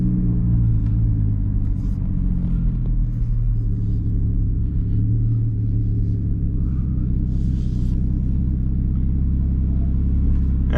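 Big-turbo Toyota Supra making 750 wheel horsepower, driven at night on a South Korean highway; a deep, loud, continuous engine drone with shifting low tones, steady throughout from inside the car.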